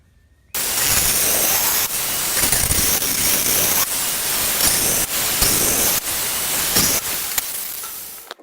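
A grinder bites into spot welds on the upper control arm of a 1968 Cadillac DeVille, giving a loud, steady, hissing grind with a few brief dips as the tool eases off, close by and without talk.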